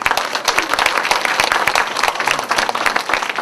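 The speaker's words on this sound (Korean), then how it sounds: "우리 시민분들의 이렇게 박수와 함성으로 시작할 수 있도록 하겠습니다." A lecture-hall audience of citizens claps and cheers at the start of a community citizens' academy talk, a dense, steady wash of applause with scattered shouts throughout.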